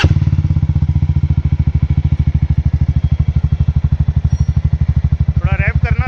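A Jawa Perak motorcycle with Razor and Venom aftermarket exhausts idles close by, its deep, rapid, even thumping pulse running steadily throughout, with a short rev near the end.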